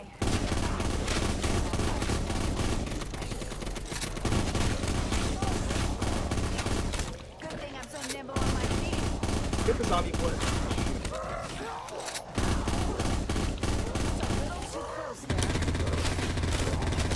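Rapid gunfire in a Black Ops 3 custom zombies video game, with long dense bursts of shots broken by short pauses, loud and close.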